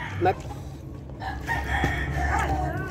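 Roosters crow amid a busy farmyard, with clucking hens and other fowl calls layered over a low background rumble.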